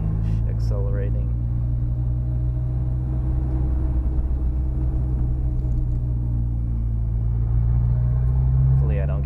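Mitsubishi Galant VR4 with a downpipe and loud exhaust accelerating, a deep, steady rumbling drone heard from inside the cabin, with a few brief voice sounds over it and a slight swell near the end.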